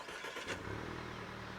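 A manual stick-shift car's engine revs briefly and then settles into a steady mid-pitched idle hum.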